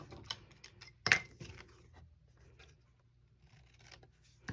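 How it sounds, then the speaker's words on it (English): Scissors give one crisp snip through paper card during papercraft stamping work, close and quiet, with faint rustling and handling sounds before and after. "Bring it all the way down, and then we just snip it."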